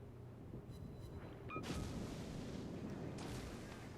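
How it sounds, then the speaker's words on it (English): Warship gunfire in World of Warships, a faint low rumble, then a heavier salvo boom around the middle with a rolling, sustained roar and a second muffled burst later, all fairly distant and subdued. "So we're firing off on that this group here, which is the battleship and the cruiser."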